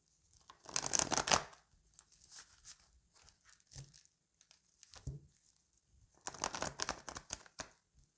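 Playing cards shuffled for a card reading, two bursts of rapid riffling and flicking, close and crisp, separated by quieter handling and light taps.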